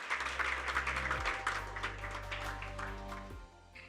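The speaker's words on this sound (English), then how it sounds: "I think it deserves another round of applause," Audience applause at a Google Africa Internet Academy conference session, a soft, dense patter of many hands from a distance over a steady low hum, fading slightly toward the end.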